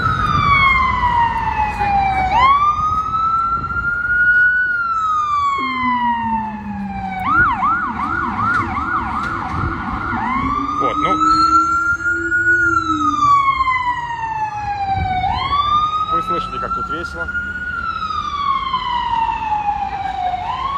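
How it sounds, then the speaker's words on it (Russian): A private ambulance siren wails along a New York street, cycling through long rising and falling sweeps with short rapid yelp bursts between them, loud and close over steady traffic rumble. "Частная скорая, гора Синай называется."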